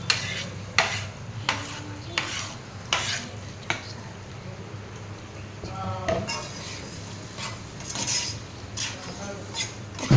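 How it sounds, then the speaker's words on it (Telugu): Finely chopped tomatoes stirred and sautéed in a pan over chili paste for gongura pulao, soft sizzling beneath repeated spatula scrapes and light clinks against the pan. "ఒకసారి దాన్ని బాగా మిక్స్ చేసుకొని మగ్గించుకోవాలి"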